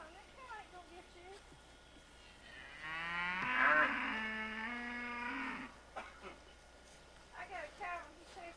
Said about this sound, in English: That cow ain't gonna get you.